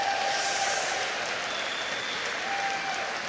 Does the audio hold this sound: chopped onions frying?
no